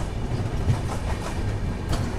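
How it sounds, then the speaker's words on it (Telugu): The Tamil Nadu Express leaves Khammam station, a brief, fairly quiet low rumble of rolling coaches with a couple of soft rail knocks. "మన ట్రైన్ వచ్చేసి ఖమ్మం నుంచి అయితే బయలుదేరిపోయింది"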